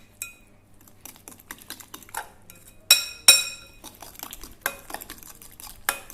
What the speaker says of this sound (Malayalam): ഇനി ഇതിപ്പോൾ നല്ലതുപോലെ ഒന്ന് മിക്സ് ചെയ്ത് കൊടുക്കണം